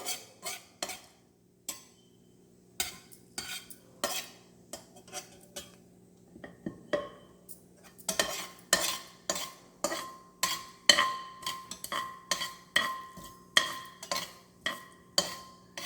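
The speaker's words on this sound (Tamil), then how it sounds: "கடுகு பொரிய ஆரம்பிச்சிடுச்சு." Mustard seeds splutter in hot oil for a Tamil kovakkai poriyal while a metal spoon scrapes and clinks against the pan, a close, uneven run of sharp taps that grows denser and faster partway through, with no talking.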